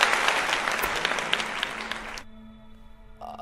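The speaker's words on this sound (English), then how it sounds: "Let's give him a round of applause" Audience applause from a live crowd, dense and loud for about two seconds, then cutting off abruptly to leave a quiet electronic hum and tones.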